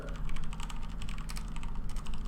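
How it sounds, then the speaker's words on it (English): Rapid keystrokes on a computer keyboard, typed close and steady in uneven bursts while chatting during a HeroClix Superior Foes of Spider-Man unboxing stream. "I'm typing in the chat for you guys."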